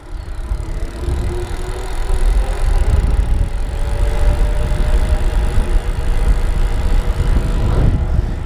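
An Emazing Bike Apollo hardtail e-bike's hub motor whirs steadily under throttle while riding, a loud continuous drone with road rattle building from a quieter start and holding close throughout.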